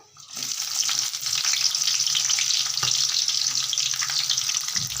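Onions frying in hot oil for biryani: a loud, steady, close sizzle with crackling that continues without a break, plus occasional soft stirring knocks and no talking.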